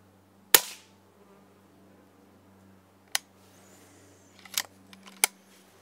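A Daystate Red Wolf air rifle fires at a squirrel on a feeder, giving one sharp crack up close, followed by a few fainter clicks and snaps in a quiet outdoor setting with a low hum.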